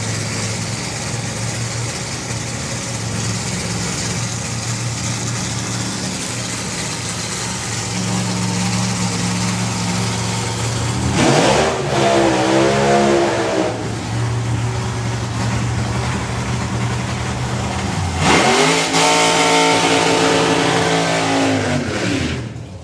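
Drag racing cars idle with a rough, loud rumble, including a turbocharged Plymouth, then launch one after another into roaring full-throttle runs that sweep past up close, with no talking.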